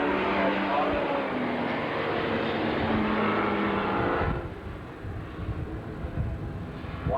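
Standard saloon race cars circle Rosedale Speedway, their engines roaring past loudly and then receding to a fainter drone, with a race commentator talking over the noise.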